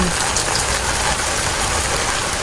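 Heavy monsoon rain pours down in a dense, loud, unbroken roar, with no pauses and no voices.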